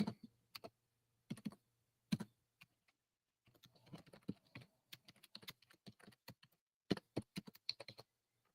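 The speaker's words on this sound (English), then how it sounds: "Oh, I cannot type right now." Quick bursts of keystrokes on a computer keyboard, with irregular clusters of clacks separated by short pauses, close and fairly quiet, and no talking.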